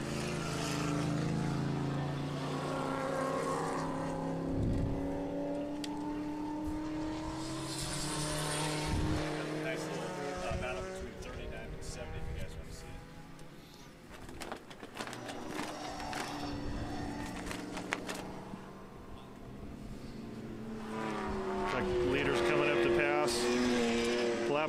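Race cars roar past at the O'Reilly Auto Parts Grand Prix, engines rising and falling in repeated loud pass-bys with sustained revving throughout, a voice speaking over the track noise.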